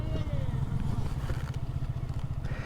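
A motorcycle's engine drones and revs steadily as its wheel slips and churns in loose beach sand, with a rough low rumble throughout and voices nearby.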